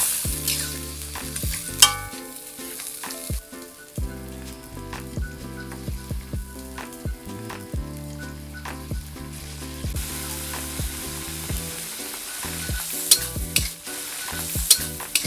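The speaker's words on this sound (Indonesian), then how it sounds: "Aduk-aduk, campur jadi satu, masak sampai air mendidih kurang lebih 10 menit." Sambal goreng kentang (potato and quail egg dish) sizzles and simmers in a pan with repeated scraping and clinking of a utensil as it is stirred, steady and close, no voices.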